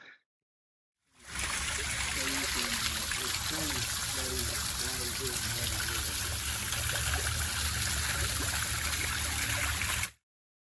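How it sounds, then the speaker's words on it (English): Water from a backyard water feature cascades over stones in a steady, close trickling and splashing stream that runs without pause for about nine seconds after a short quiet start. "I took video of the water cascading over all of this"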